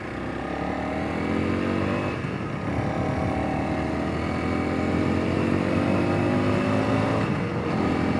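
A Honda CRF300L dual-sport motorcycle carrying two riders pulls hard from a standstill and climbs through the gears, its engine note rising and dropping with each shift over steady loud wind noise, all of it close and continuous.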